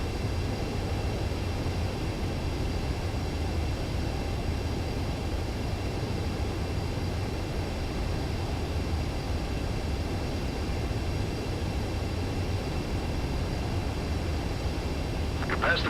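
A jet aircraft approaching a runway to land in Ace Combat 7: a steady, unbroken engine roar and rumble holding at an even level throughout, with no talk.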